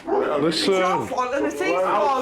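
A dog barks and yips in a house during an emergency call, several close barks mixed with whimpering sounds under loud, agitated talking.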